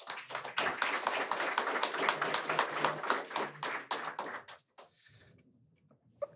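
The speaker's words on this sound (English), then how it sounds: "Please give them a round of applause." An audience at a startup event applauds two founders taking the stage, dense close clapping that swells for several seconds and then breaks off abruptly, leaving a few stray claps and faint room noise.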